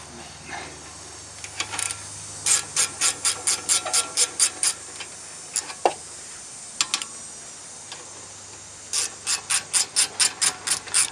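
A ratcheting wrench works on a brake caliper bolt of a Honda Accord, clicking in quick bursts of evenly spaced ticks with short pauses between strokes, close and fairly quiet with a faint background hum.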